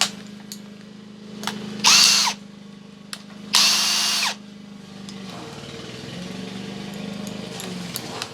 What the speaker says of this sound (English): I'll set up my drill